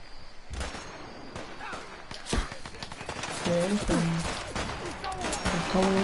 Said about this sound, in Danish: Er det skud, jeg kan høre?